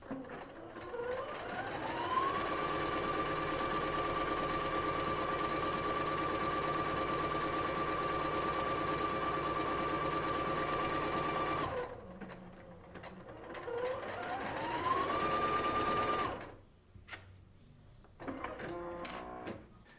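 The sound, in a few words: Singer SE 9185 sewing machine stitching test patterns on fabric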